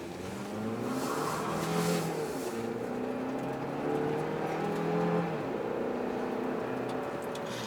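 A 2017 Chevrolet Cruze Hatch RS with a turbocharged 1.4-litre engine accelerates, its engine note climbing through rising revs, easing off and building again, heard from inside the car without talk.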